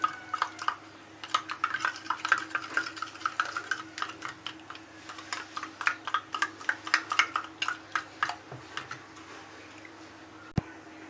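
Cake batter of semolina with baking powder and soda is beaten briskly in a bowl, a fast run of light rhythmic clicking taps, close and fairly soft, ending in a single knock, with no talking.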